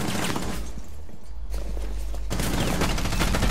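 Bursts of automatic gunfire in Rainbow Six Siege, several rapid shots in two clusters separated by a brief quieter gap, loud and close.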